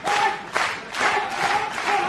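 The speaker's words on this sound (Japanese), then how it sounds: "桃田の張り手と同時に会場から手拍子が送られておりました。" An All Japan Pro Wrestling arena crowd claps along in rhythm during an exchange of slaps, a dense roar of hands and voices that swells and dips in steady waves throughout.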